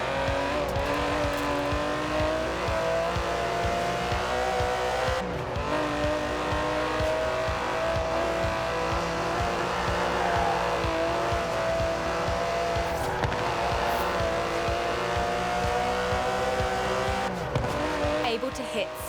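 An Aston Martin DB11 with a 5.2-litre twin-turbo V12 drives in the racing game Forza Horizon 4, its engine droning steadily and revving at high load with brief shifts, under a voice talking.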